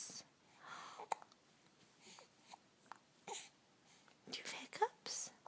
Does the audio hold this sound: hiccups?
yes